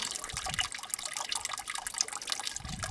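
Solution draining and trickling through a freshly installed filter bed on a mining tailings pad, a steady close wash of running, dripping water with no talk.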